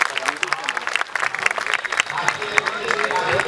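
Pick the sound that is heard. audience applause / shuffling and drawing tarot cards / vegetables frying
audience applause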